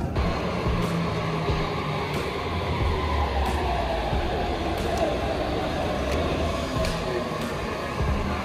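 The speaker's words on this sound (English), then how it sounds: "So I'm gonna take a metro and then a tram to get to the hostel." Budapest metro train running, with a steady loud rumble and rolling rail noise throughout, plus faint periodic clicks from the track, with no talk over it.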